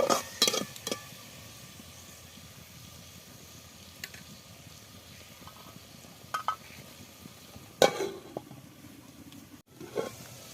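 Potato and soya kofta curry stirred in a pan: faint, scattered scrapes and clinks of a spoon against the pan at irregular intervals over a quiet background, with a soft voice heard briefly.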